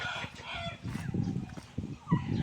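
Chickens at a blue coop in a coconut grove cluck and crow in short, close bursts, with faint bird calls mixed in.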